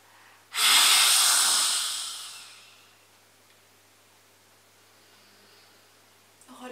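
A forceful lion's breath exhalation in the yoga lion posture, Simhasana, is a single loud, breathy roaring exhale that starts sharply, fades over about two seconds and leaves near silence, followed by a faint new breath at the end.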